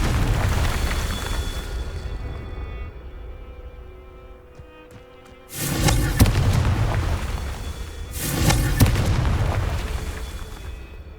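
Confringo spell explosions in the video game Hogwarts Legacy, two loud booming blasts a few seconds apart over a steady background of game ambience.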